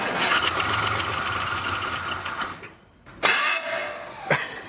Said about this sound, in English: it just fired right up